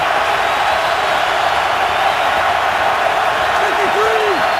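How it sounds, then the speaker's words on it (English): A football stadium crowd in Oakland roars at a 2016 Bills at Raiders NFL game, a dense, constant wash of cheering noise with a few whistle-like rising tones near the end. "And the crowd re-energized here in Oakland."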